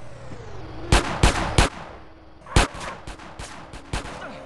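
Gunfire in GTA San Andreas during the Robbing Uncle Sam mission: a burst of three sharp close shots, a brief pause, then a further run of spaced loud reports over low background noise, with no talking.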